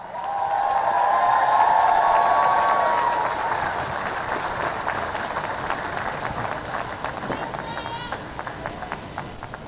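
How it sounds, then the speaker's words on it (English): An audience at a college commencement ceremony applauds, with dense clapping mixed with crowd noise and voices that swells early, then settles into steadier clapping that fades. "Another round of applause."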